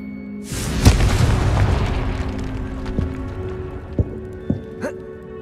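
Deep booming blast from a Confringo fire spell in Hogwarts Legacy, hitting hard and rolling off into a long rumble, followed by a few scattered sharp pops and crackles.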